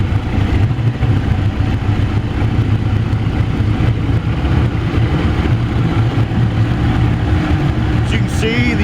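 A 2004 Mercury 60 hp outboard boat engine runs at high revs with a steady, smooth, loud drone and no pauses, and a voice talks over it near the end.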